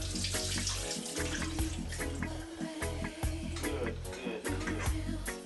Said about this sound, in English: Okay, so now we've got our potatoes here. Now let me give them a quick rinse.